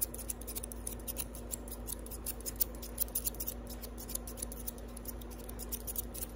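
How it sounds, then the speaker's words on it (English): Two pairs of scissors snip hair together during a fast ASMR haircut, producing a steady, rapid patter of crisp, quiet, close-up snips with no voices. "Just do like a dueling scissors situation."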